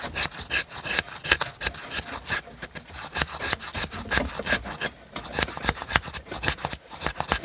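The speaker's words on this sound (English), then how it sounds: "What I'm scraping here is fat wood." A blade scrapes fatwood, sap-rich evergreen wood, at a bushcraft shelter in rapid, rhythmic rasping strokes, close and steady with no talk.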